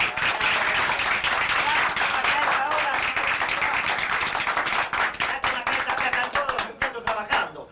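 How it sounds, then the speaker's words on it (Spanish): Crowd applause for comrade Barrera at a political gathering, a dense, loud roar of clapping that breaks into sparser, separate claps near the end. "¡Aplausos para el compañero Barrera!"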